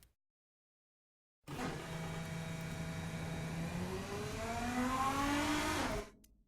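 A mid-pitched car engine accelerating on a test track in the game Automation, steadily revving and whining upward through the gears, moderately loud and alone, cutting off abruptly at the end.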